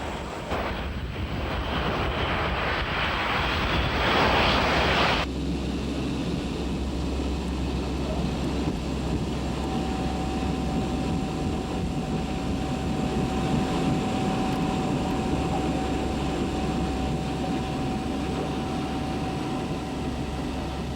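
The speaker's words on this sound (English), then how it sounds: "Another new aircraft was introduced, again American, the" C-130 Hercules turboprop engines, a loud, steady droning roar with a harsh buffeting burst at the start, then a sustained even hum carrying a faint whining tone.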